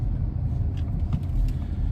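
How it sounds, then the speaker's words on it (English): Inside a 2021 Ford Mustang Mach-E electric car while driving, a steady low road rumble and tyre drone fills the cabin, with no talk. "So driving the Mach E, 2021 Mach E."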